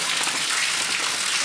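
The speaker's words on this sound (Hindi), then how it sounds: "देख सकते हो कितनी ज़्यादा बारिश हो रही है" Steady, dense hiss of heavy rain pouring down, a constant wash of noise with no breaks and no voices.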